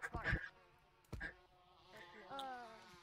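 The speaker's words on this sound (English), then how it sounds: "I'm not going to get caught by the bees" Bees in the VR game Gorilla Tag give a faint, wavering buzz in short bursts, with a couple of sharp knocks early on and a steadier droning hum toward the end.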